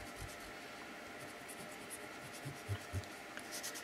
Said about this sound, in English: That'll take off ink smudges if you gently erase.